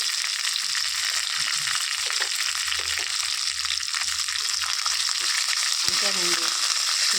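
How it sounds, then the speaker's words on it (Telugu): Garlic and dried red chillies fry in hot oil with a continuous, even sizzle, broken by a few soft stirring clinks near the end. "ఈ వెల్లుల్లిపాయలు ఎండుమిర్చి నూనెలో కాస్త బాగా ఉడికి మంచి స్మెల్ వస్తుందండి అప్పటిదాకా వేయించుకోవాలి"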